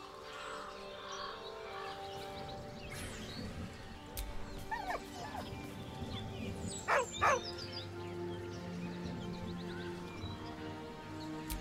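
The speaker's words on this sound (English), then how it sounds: "With a deep, heartbroken whine, the dog bows his head." A dog in Baldur's Gate 3 gives high, wavering whimpers and a deep, heartbroken whine over a low game ambience, with a couple of louder yelps in the middle.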